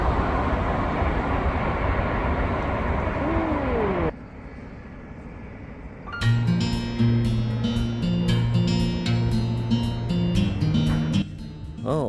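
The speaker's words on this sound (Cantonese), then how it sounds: "間唔中會見到橋上面嘅高鐵列車經過" A high-speed train crosses a bridge near Shenzhen as a steady, broad rushing roar for about four seconds, then the sound cuts away to quieter, unrelated tones.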